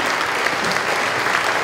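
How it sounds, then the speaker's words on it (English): Applause fills a high school graduation ceremony for 2021–2022, a dense, steady wash of many hands clapping at even loudness from start to finish with no speech over it. "please join me in a round of applause"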